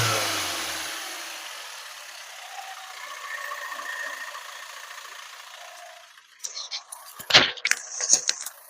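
The engine of a 2019 Hyundai Creta 1.4 E+ revs briefly, then its drone fades and settles into a quieter steady hum. A few sharp clicks and knocks close the clip.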